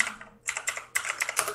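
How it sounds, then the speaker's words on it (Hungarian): Loud mechanical-sounding computer keyboard typed on during an online Rainbow Six match, a burst of key clacks, a short pause, then a dense run of rapid strikes, close and alone with no talk. "Az a mechanikus billentyűzet."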